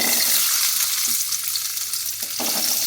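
Onions frying in oil in a kadai for a radish (mullangi) chutney, a loud continuous bright sizzle close up, with a couple of faint stirring clinks late on and no talking.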